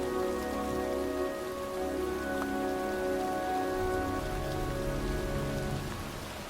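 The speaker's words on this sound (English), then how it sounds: "It's cold. It's raining." Rain falls steadily in the video game Heavy Rain, a continuous close patter of drops on surfaces, with a low sustained musical score humming beneath and no voices.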